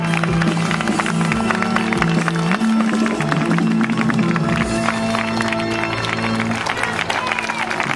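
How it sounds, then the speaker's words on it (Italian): Loud, dense applause from a hall audience at a horror film festival event, steady clapping and some cheering throughout, mixed with musical tones underneath. "grande applauso"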